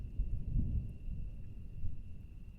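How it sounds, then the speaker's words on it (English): A thunderstorm beginning at dusk, with low, rolling rumbles of thunder that swell and fade across the moment, steady and fairly quiet, with no voices. "A thunderstorm just beginning."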